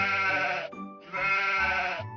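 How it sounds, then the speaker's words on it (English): A sheep gives two loud, drawn-out bleats in quick succession, close and clear, with a short gap between them and no talk. "And now compare this sound to this sheep sound."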